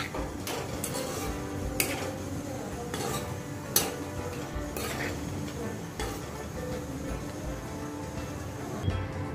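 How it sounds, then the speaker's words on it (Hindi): A spoon scrapes and clinks in a pan as spices and tomatoes are stirred together for tomato rice, with irregular metallic taps over a soft background sizzle. "अब हम मसाले को भी अच्छा मिक्स कर लेंगे।"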